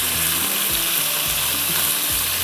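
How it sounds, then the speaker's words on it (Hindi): A mince, noodle and rice mixture sizzles loudly in a frying pan while a spoon stirs it, the scrapes coming in a repeated rhythm about every half second over the steady hiss of frying. "ये आप चलाते रहिएगा इसको चम्मच"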